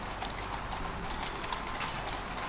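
Horses' hooves clip-clop along a Victorian-era riverside, giving faint, rapid, irregular knocks under a steady wash of outdoor background noise.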